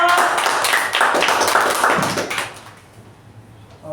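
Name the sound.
meeting attendees applauding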